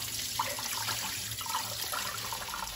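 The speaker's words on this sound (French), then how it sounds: "on va les rincer une dernière fois" Steady running water from a tap flows continuously over food being given a final rinse in a sink, close and fairly loud throughout with no talking.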